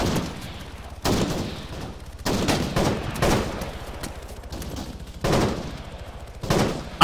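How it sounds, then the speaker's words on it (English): Gunfire in a tactical shooter game: repeated bursts of automatic rifle fire come in rhythmic volleys, loud and close, with rumbling echoes between bursts. "Gunfire northwest right now."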